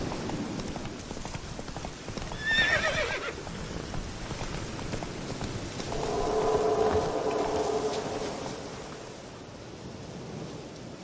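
Horse in The Witcher 3: Wild Hunt, giving a short whinny followed by a longer neigh, with hoof clip-clops under a steady game ambience, moderately near.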